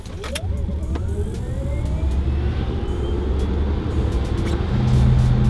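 A Tesla Model S electric car accelerates hard from a standstill, with a rising whine sweeping upward over rumbling road and tyre noise that builds steadily in loudness, heard from close by without talk.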